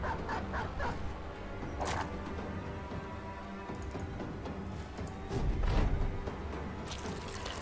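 A war dog in the video game Battle Brothers barks among game battle sounds, with sharp yelps and bow-wows rising over a busy background of clashing effects, loudest near the middle and end.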